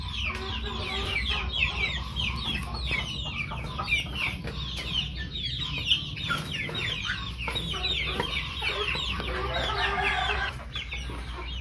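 A flock of farm chickens clucks and chatters constantly at close range, with overlapping calls over a low background hum and an occasional crow.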